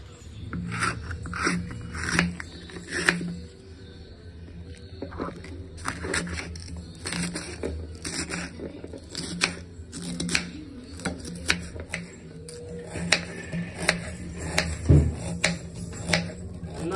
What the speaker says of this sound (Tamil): காய் கட் பண்ண பாத்தீங்களா?